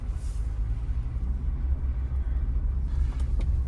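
A Ford Bronco driving slowly through a snowstorm in the Badlands, heard from inside as a constant low engine and road rumble with a few faint knocks near the end.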